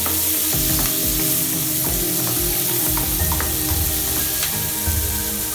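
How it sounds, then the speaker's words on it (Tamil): Onions sauté in oil with cinnamon and cloves as the base for a mutton kulambu with vegetables, making a loud, continuous close sizzle with scattered stirring scrapes and crackles. "பட்டை கிராம்பு பொரிஞ்சதுக்கு அப்புறமா வெங்காயம் போட்டு எல்லாத்தையும் நல்லா வதக்கிக்கலாம்."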